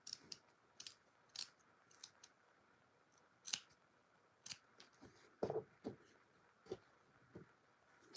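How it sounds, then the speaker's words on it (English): Scissors snipping in a quiet room, a dozen or so sharp, uneven clicks and cuts spaced irregularly, close and crisp, with the blades sounding like they struggle. "What is going on with my scissors?"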